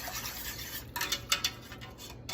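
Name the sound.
whisking thick cheese grits into sausage gravy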